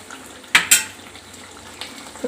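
A spoon scrapes and clinks twice against a pot of tomato egg curry as it is stirred, two sharp close knocks over a soft background hiss, then a fainter tap.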